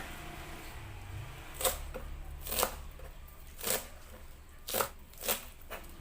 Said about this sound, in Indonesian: Lalu ada daun seledri diiris-iris juga.